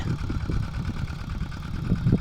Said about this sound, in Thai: ใช้รถไถเดินตามของแกนี่แหละ ไถไปเรื่อย ๆ